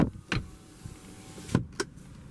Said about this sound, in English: bring the automatic driver's side window back up